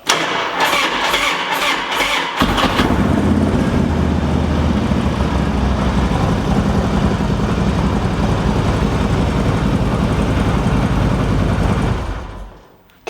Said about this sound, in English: The bike starts, no issues.